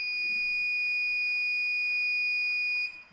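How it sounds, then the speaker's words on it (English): An Arduino buzzer in a flame-sensor setup sounds continuously as a steady, loud electronic tone, holding unbroken for about three seconds before cutting off near the end. "This is the upgrade code for blinking a buzzer for 5 times."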